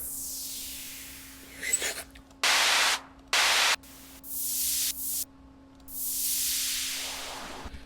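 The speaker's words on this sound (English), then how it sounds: "See, I probably have white noise in here." Bursts of harsh white noise from a sample in a lofi beat hiss in and out, some swelling and fading, others starting and stopping abruptly, over a faint steady hum.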